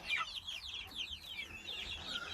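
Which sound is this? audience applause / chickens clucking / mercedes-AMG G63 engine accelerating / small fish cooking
chickens clucking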